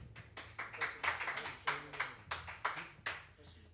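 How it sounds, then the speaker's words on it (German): A small technical crew at a live music venue claps by hand, a sparse, uneven run of about a dozen close, separate claps with no talking. "wir danken auch nochmal für den Applaus, den wir hier gespendet kriegen von unserem Technikteam"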